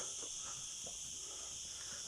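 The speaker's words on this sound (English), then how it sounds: "and cicada flies going crazy" Cicadas buzzing along a forest walk near Torrevieja, Spain, a constant high, dense insect drone filling the background, faint and unbroken, with light rustling beneath and no speech.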